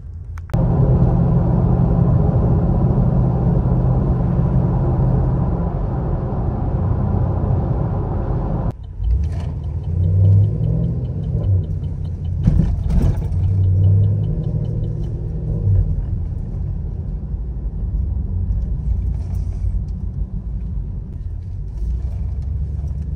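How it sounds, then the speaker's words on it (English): Chevrolet Camaro running on a shop dyno, a deep steady engine rumble that drops abruptly partway through, then idles lower with brief louder revs and bangs. "We got that Camaro going on the dyno"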